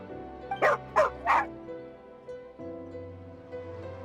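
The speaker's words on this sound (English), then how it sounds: "Here, doggy. Good doggy." A dog in the Genshin Impact video game gives three quick yipping barks close up, then drops into soft whimpering whines over quiet game ambience.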